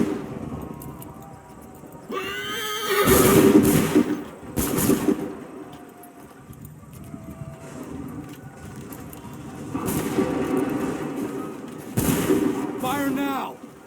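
Musket volleys in Assassin's Creed III crack out in loud bursts around 3, 5, 10 and 12 seconds, with a busy battlefield bed and shouted orders between them.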